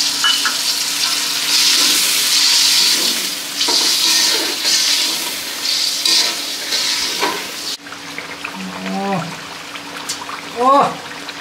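Soybean chunks fry in a pan with a loud steady sizzle, then water is poured in and the hiss drops and sputters, with a voice briefly talking over it.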